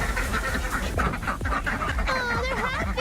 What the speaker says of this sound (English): Please enjoy the ducks changing their mind.